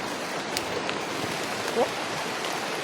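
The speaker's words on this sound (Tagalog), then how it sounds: "Ang lakas na ng ulan." Steady rain pours down in a dense, even hiss, with occasional louder drips and faint voices in the background.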